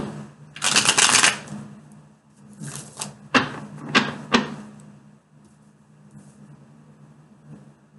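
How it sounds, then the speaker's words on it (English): Tarot cards shuffled close up, a long riffling burst followed by several sharp slaps and riffles, then fading into quiet room tone. "Okay, one more shuffle."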